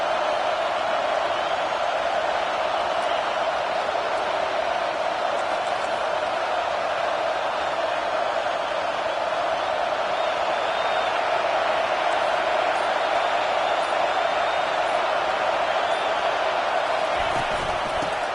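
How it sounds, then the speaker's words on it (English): Home crowd noise in a football video game, a steady broad roar of cheering that holds at an even level throughout with no clear peaks, as the defense faces third down. "Here comes this home crowd as the defense tries to get off the field on third down."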